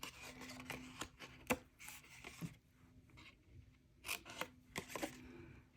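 Paper being cut with scissors for a gift box, a series of quiet, close snips and rustles coming in short irregular bursts with pauses between.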